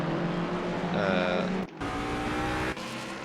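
In the Assetto Corsa Competizione game, a GT race car's engine at Zandvoort revs hard through rising gear pulls, with abrupt drops at the shifts and a steady loud drone between them.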